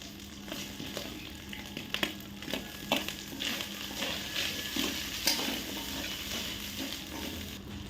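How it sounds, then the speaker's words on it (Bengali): Potatoes sizzle in hot spiced oil while being stirred, a soft steady frying hiss broken by repeated scraping and clinking strokes of the spoon against the pan. "ভালো করে নাড়াচাড়া করে এবার ওই মশলা তেলে আলুগুলোকে দিয়ে দেওয়া হলো।"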